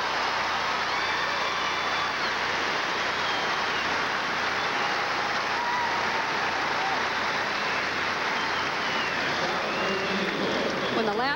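A crowd at the 1989 U.S. Olympic Festival gymnastics competition applauds in a steady, dense roar of clapping that holds throughout, sounding broad and slightly distant like heavy rain.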